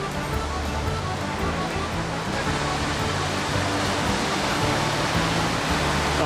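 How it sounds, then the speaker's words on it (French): A waterfall in Ireland, the Ashlangen cascade, roars as a continuous broad wash of falling water, steady and fairly loud, with a faint low hum underneath and no clear talking. "On est à la cascade Ashlangen"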